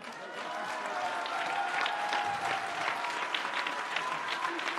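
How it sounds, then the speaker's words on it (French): Crowd applause at a union pension-reform rally in Saint-Étienne, a sustained dense wash of clapping from a large hall audience, steady and moderately loud, with a murmur of voices underneath. "on peut tous s'applaudir."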